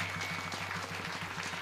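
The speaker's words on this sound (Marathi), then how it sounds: "त्यांच्यासाठी जोरात टाळ्या वाजवा" An audience at a kirtan gathering claps for children who danced and sang on stage, a soft, continuous patter of applause with a faint hum beneath it.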